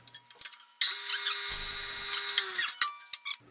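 Sawing a small wooden piece for a phone chair: a close, rasping cut of about two seconds under a whining tonal hum, bracketed by light scrapes and handling noises, with no talk.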